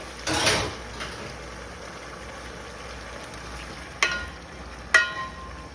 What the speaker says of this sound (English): So as soon as this comes to, it's just starting to fry.